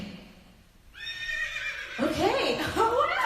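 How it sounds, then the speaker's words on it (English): A horse neighs close by, a sharp rising whinny that breaks into fluttering calls over a second or so, mixed with background talk. "I heard a horse, I believe"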